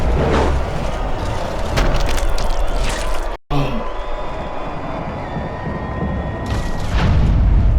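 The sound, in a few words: heavy punch knocking a boxer down, Fight Night Champion video game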